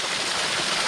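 Ice-cold mountain stream crossing a hiking trail on Vancouver Island, a loud continuous rushing of flowing water, close and steady with no talk.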